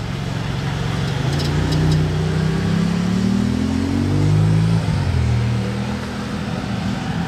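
A Maserati at a car gathering revs nearby, its engine note climbing and falling in a loud, sustained sweep with a second vehicle's tone overlapping amid general roadway noise.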